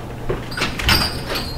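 A door opens as a visitor arrives at a home, giving a short sliding and thudding sweep with rattly high scrapes over a low room rumble. It is close and moderately loud, with no talk.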